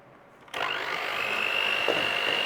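A blender starts up abruptly partway through and whirs steadily as chocolate fudge cake batter is beaten, a close, even motor drone with a faint rising whine.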